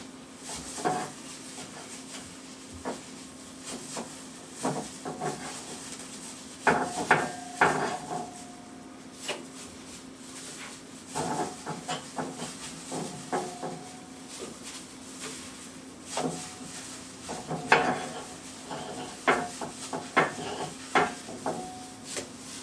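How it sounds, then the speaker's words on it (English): A pork chop cooks in a hot pan amid repeated clattering knocks, scrapes and handling of cookware, with a faint sizzle and a steady hum underneath, the sharp clanks scattered irregularly. "As soon as this pan gets hot, put your pork chop in the seasoning. Just like this. Then get the pork chop in the pan."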